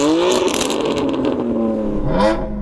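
A BMW F80 M4 CS fitted with an aftermarket exhaust revs loudly up close, its engine note rising and falling in a couple of sharp blips with rasping crackle.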